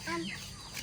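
Chickens cluck close by as they come to peck at rice alongside dogs, a short burst of soft fowl calls over a busy background that sounds like people talking.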